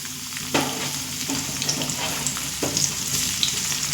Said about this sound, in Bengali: দেখুন পেঁয়াজটা মিডিয়াম ফ্লেমে দু থেকে তিন মিনিট ভেজে নিয়েছি